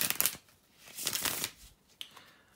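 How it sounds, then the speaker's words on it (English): Two bursts of rapid riffling as a deck of tarot cards is shuffled, then a short tap and soft rustle; close and fairly quiet, no talking. "bear with me a second, guys, to shuffle the tarot cards"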